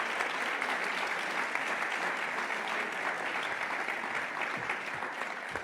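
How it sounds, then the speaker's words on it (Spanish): A conference audience gives the speakers steady, sustained applause, a full wash of clapping that holds evenly before tapering slightly at the end. "Por favor, un aplauso a las y los ponentes."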